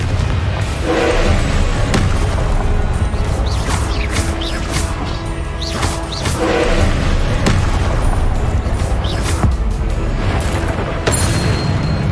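Blasting-spell explosions from the Hogwarts Legacy video game: loud, repeated booming bursts with crashing impacts, arriving every couple of seconds over a dense, continuous wash of combat noise.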